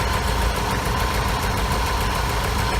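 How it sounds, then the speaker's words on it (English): A 1976 Starcraft boat engine, fitted with a Pertronix electronic ignition, idles steadily and loudly close by, with an even, continuous mechanical rumble and no talk. "After only a minute of idling there, it's just idling like a champ."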